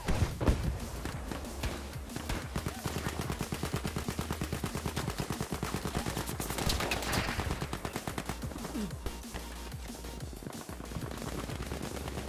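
Sustained rapid gunfire in the video game Battlefield V rattles on and off for several seconds, a dense stream of shots with scattered single cracks, heard at moderate distance.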